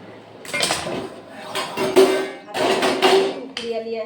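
A knife cuts through eggplant on a board, giving a few uneven knocks and clatters with some ringing utensil contact, close and fairly loud, with no talking.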